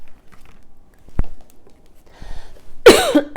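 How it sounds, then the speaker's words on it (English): A single sharp cough bursts out near the end, close and loud, after a quiet stretch with a faint knock and soft rustling. "Pardon me, my coughing."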